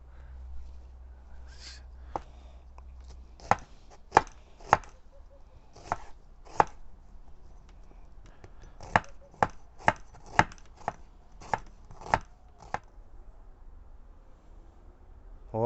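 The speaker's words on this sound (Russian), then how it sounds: "Я вот режу лук." A knife chops onion on a board in a home kitchen, with sharp irregular cuts landing in loose clusters, some closer together, against a quiet room.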